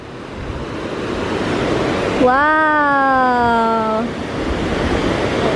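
Steady roar of powerful waves breaking on a beach, loud and continuous with wind rush, while a voice exclaims briefly over the surf in the middle.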